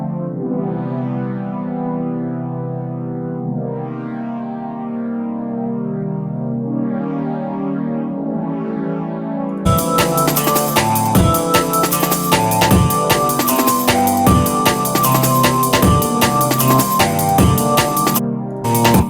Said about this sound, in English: So we have this phaser plus effect on here, and the pads sound like this.